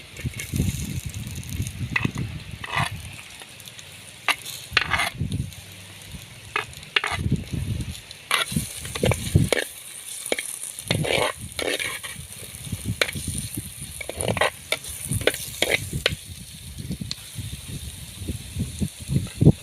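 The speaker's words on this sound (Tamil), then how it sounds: "இப்போ நாங்கள் பாருங்க வெட்டி நறுக்கி வச்சுக்கிற வெங்காயத்தை போடுறோம்" Close, lively sizzling of chopped onions frying in a pan, broken by repeated bursts of stirring and scraping.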